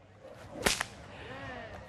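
A whip cracks once in the Australian outback, a single sharp snap followed by a quick echoing tail over a quiet outdoor background.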